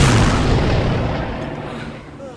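Gunfire in a World War II film scene at sea, a heavy booming burst at the start that rolls off into a decaying rumble over about two seconds, loud and close.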